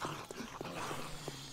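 Dogs in the survival game 7 Days to Die on PS4 give a brief, fairly quiet yelp and whimper over steady game ambience.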